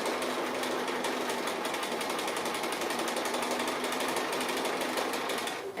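A sewing machine runs steadily, stitching the appliqué edges of a festive house-shaped table runner, its needle producing a continuous fast rhythmic whir close up, alone without talk and stopping just at the end.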